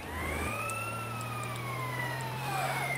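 An ambulance siren in the video game GTA: San Andreas wails with a slowly sweeping pitch over a low engine drone, fairly loud and continuous.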